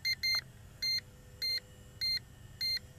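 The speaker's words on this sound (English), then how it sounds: "Some beeping, turns around." Snaptain quadcopter drone beeping during return to home: six crisp high electronic beeps, one quick pair and then evenly spaced single tones, close and clear over a faint low background hum.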